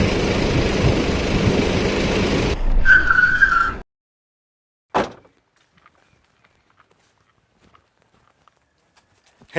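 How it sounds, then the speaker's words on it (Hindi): A car in a Hindi action movie scene brakes to a stop with a loud engine and road rumble that cuts off abruptly, followed by silence and a single solid thunk like a door. "सुनील गाड़ी रोको, कोई आदमी पड़ा है।"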